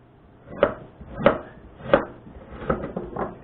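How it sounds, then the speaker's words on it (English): A knife chops fruit into chunks on a cutting board for juice, five distinct thuds at a steady rhythm, the last few quicker and softer, close and fairly clear with no talking. "I'm making this juice. Cutting everything up"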